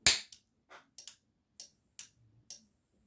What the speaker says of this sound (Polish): Podejrzewam, że gdzieś przeskoczyła iskra, tylko nie jestem w stanie powiedzieć gdzie.